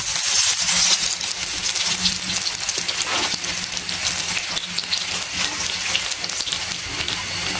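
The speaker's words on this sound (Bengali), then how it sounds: "আর যদি বেশি মুচমুচি করতে চান এভাবে ভেজে নেবেন ডুবো তেলে" Coriander leaf pakoras deep frying in plenty of hot oil, a loud, dense, continuous sizzle and crackle with no voices over it.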